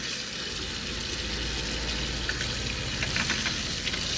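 Continuous hissing, sputtering rush of air and water from an open water line at a sink in a Grand Design Momentum 21G RV, steady and fairly loud, with faint crackles throughout.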